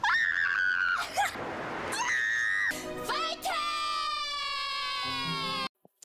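Two people shout together at full voice, a loud, sustained, strained yell broken by brief pauses and shifts in pitch, cutting off abruptly into silence near the end.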